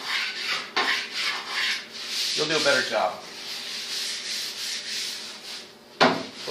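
Sandpaper scrubs back and forth over a base coat in steady rasping strokes, close and loud, with a short spoken remark partway through.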